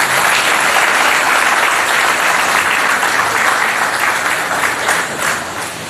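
Loud, continuous applause from a large crowd at a church feast honouring the translation of St. Dominic's relics, greeting the Dominican priests and brothers; dense, steady clapping that fades slightly near the end.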